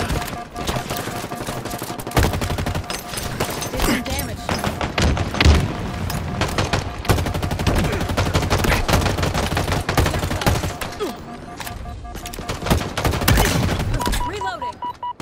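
Rapid gunfire bursts and heavy thuds from Halo Infinite multiplayer on Xbox One S, loud and continuous for most of the stretch, with game voice callouts and music layered over the shooting.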